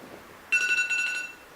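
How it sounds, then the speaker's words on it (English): A phone alarm starts abruptly and keeps ringing with a bright electronic tone, pulsing in quick bursts for about a second before fading, close by and fairly quiet, with no talking. "My alarm just went off."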